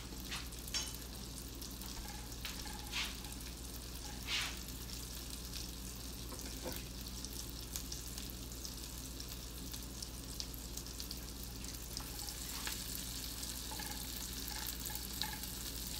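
Onion frying in lots of butter for a Polish pierogies and cabbage dinner, a steady close sizzle and crackle running throughout with occasional stirring clinks and scrapes, no talking.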